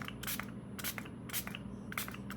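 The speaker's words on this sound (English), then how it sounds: "So I'm going to just mist over the top," A spray bottle gives four short, sharp hissing mists of water over a watercolor painting at a steady pace, close by, over a low, steady background rumble.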